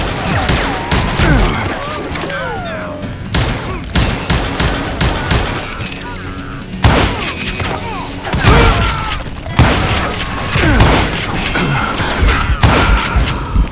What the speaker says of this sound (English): Who's shooting at him? We're under fire!